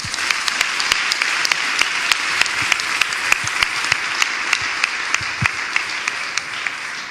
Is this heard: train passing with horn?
no